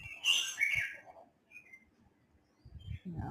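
Pet birds chirp indoors in a handful of short, bright tweets, some close together and others separated by quiet pauses, ending with a low soft rustle.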